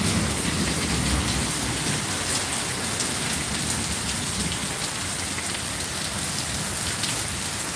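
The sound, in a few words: rain falling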